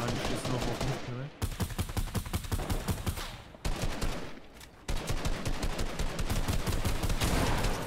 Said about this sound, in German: die schießen noch auf mich